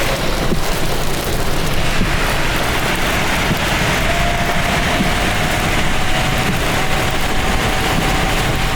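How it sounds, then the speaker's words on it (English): Small hail falls during a thunderstorm and patters steadily on a car, making a dense, continuous hiss with a low rumble underneath. No voices are heard. "Small piece of the hail starting to fall."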